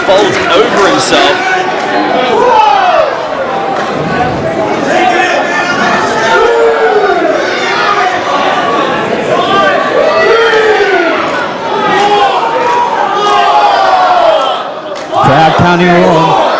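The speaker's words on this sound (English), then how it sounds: "Crowd counting along." A wrestling crowd at a Last Man Standing match roars and shouts together in a dense, continuous wall of voices, loud and close, with rising chant-like calls throughout.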